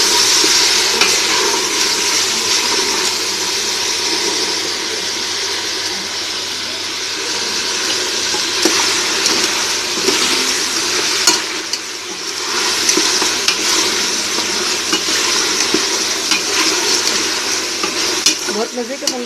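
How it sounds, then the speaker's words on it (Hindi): Masala spices sizzle and fry in a pan with a splash of water, a loud, continuous crackling hiss with occasional scraping stirs running throughout. "अच्छी तरह मसाला को भूनेंगे।"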